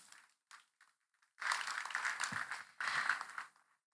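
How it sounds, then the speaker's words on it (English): A small audience at a talk or presentation claps. A few scattered claps come first, then two short bursts of applause that fade out quickly. "Please give yourselves a round of applause."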